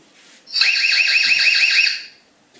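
The alarm siren of an EZVIZ C8C 360° outdoor security camera sounds once, a loud, piercing warbling tone lasting about a second and a half, close by and heard alone.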